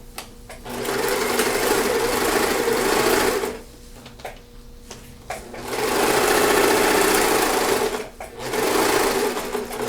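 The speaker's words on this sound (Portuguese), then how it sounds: "Aqui você pode passar a costura até o fim." A sewing machine stitching a seam on fabric, whirring loudly and steadily in three long runs separated by short pauses, close and alone with no talking.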